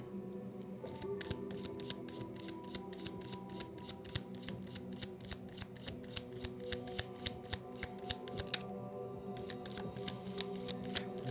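Tarot cards shuffled by hand in a fast, steady riffle of crisp flicks, close and clear, running throughout over a low background hum and soft ambient tone.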